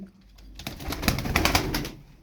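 A Star Perçemli Çakmaklı pigeon coos close by, a short soft murmuring burst that swells and fades within a couple of seconds.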